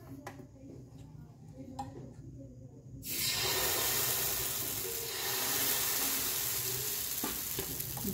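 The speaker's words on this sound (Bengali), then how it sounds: "এবারে আমি খানিকটা করে ব্যাটার ঢেলে দেবো।" Batter for patisapta hits a hot tawa greased with ghee, and after a few quiet seconds a loud, sustained sizzle starts and holds steady.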